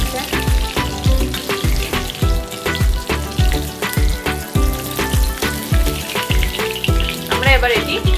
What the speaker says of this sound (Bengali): এজন্য আমরা হালকা আঁচে এটি ভেজে নেব